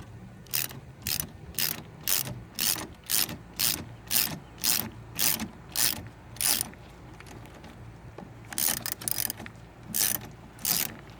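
A ratchet wrench with a 5/8 socket loosening a nut on a marine tilt trim cylinder, a loud close series of rhythmic clicking strokes, about a dozen bursts with a short pause before a final quicker run.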